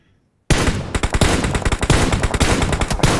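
After a brief silence, rapid automatic gunfire erupts in PUBG Mobile, loud bursts of closely spaced shots continuing for about three seconds with no talk.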